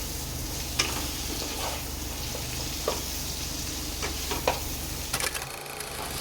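Raw mango pieces with a pinch of salt fry in a pan for a sweet chutney, giving a steady soft sizzle broken by a few light stirring scrapes and clicks, with no talking.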